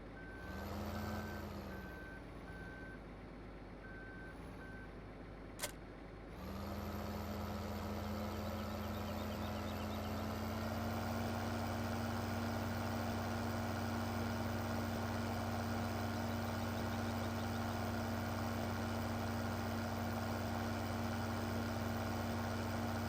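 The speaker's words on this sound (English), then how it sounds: "Okay, this tractor should be big enough to handle" Tractor engine in the Farming Simulator 15 video game, a steady droning hum that shifts pitch and swells after a brief click, then runs continuously and fairly loud, with an intermittent beeping tone early on.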